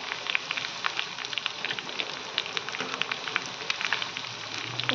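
Chicken pieces fry in a pan for a chilli chicken gravy, giving a steady, fairly quiet crackle and sizzle with scattered sharp pops throughout, close by and without talk.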